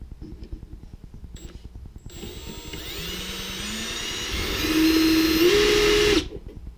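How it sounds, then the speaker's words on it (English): A power drill bores a hole into a 1999–2007 Chevy Silverado single cab's fuel tank, its motor whining steadily and rising in pitch over several seconds before cutting off abruptly. "So now you're gonna want to try to drill this hole straight,"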